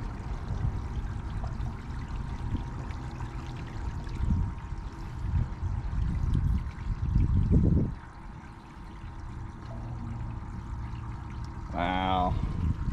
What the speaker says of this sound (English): So now we're filling up this one almost all the way full.